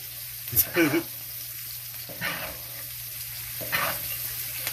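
A ribeye steak sizzles in a hot pan with butter, a steady close hiss with short louder bursts of spitting fat and light voices now and then.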